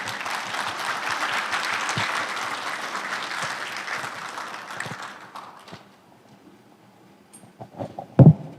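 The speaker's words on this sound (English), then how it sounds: "Please join me in welcoming her to the stage with a round of applause" An audience applauds the Governor of Guam onto the stage at the Ukudu power plant commissioning ceremony, with dense sustained clapping that fades after about six seconds, leaving quiet room noise and a couple of soft knocks.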